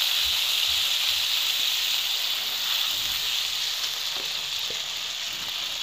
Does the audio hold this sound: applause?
no